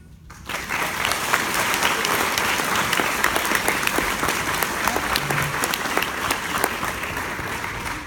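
A large theatre audience bursts into loud, sustained applause that begins abruptly and continues steadily with dense clapping throughout.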